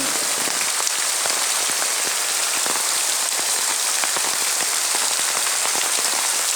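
Very heavy rain pours steadily over a village, a dense continuous roar of drops hitting surfaces with many sharp close splats throughout, no voices.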